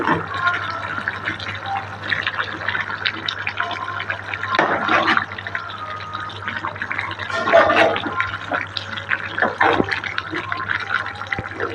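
Curry for puri simmering in a pot, irregular bubbling and gurgling pops at close range with a low steady hum beneath and occasional louder spurts.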